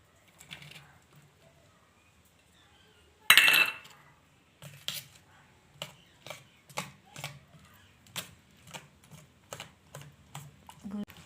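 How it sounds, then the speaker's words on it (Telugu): A spoon mixes omelette egg mixture in a bowl: after one loud clattering knock, a steady series of quick clinking taps follows close by, with faint birdsong behind. "బాగా కలుపుకోవాలి"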